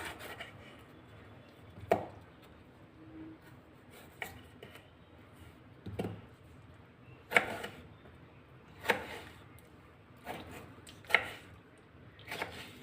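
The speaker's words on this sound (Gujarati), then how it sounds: "તો ટમેટાને આપણે નાના નાના કટ કરી લઈશું" A knife chops two tomatoes into small pieces on a board, sharp cuts landing at irregular intervals, some isolated and some in quick clusters, fairly close with a quiet background.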